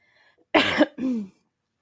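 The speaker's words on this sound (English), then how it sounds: "I want this cough to go away" Two hard coughs in quick succession, the first harsher and louder, the second shorter and throatier, close up and otherwise quiet.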